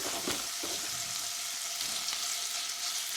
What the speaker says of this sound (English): I am just getting the bacon nice and crispy.